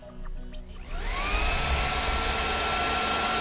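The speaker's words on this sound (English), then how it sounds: "The wind tunnel is used to test wind turbine rotors like this one." A wind tunnel fan for testing wind turbine rotors spins up, its whine rising in pitch within the first second, then settles into a steady, loud rushing blow of air that runs to the end.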